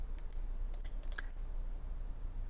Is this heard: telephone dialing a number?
no